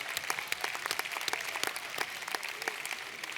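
Delegates at a trade union congress applaud an election result, giving a short burst of crisp, scattered clapping from a moderately sized crowd with individual claps standing out.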